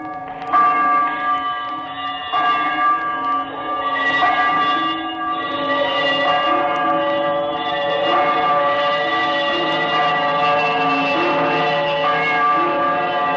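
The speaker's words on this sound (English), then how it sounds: "he saw this bell begin to swing." An old bell swings and rings in a 1938 radio drama of A Christmas Carol, its loud, sustained tolling with shimmering overtones continuing steadily for over thirteen seconds with no voices.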